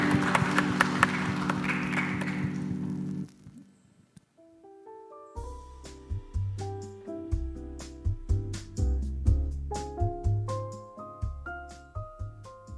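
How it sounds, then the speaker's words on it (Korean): A congregation claps in encouragement and blessing during a Sunday worship service at Jeju Seongan Church. The steady, full applause lasts about three seconds, then drops away as soft instrumental music with a melodic keyboard line begins. "우리 다시 한번 격려와 축복의 박수 하도록 합시다."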